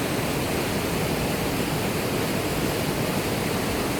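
A waterfall pours through a tight, rocky river gorge in remote New Zealand trout country, giving a steady, dense roar that holds evenly and loudly throughout with no voices.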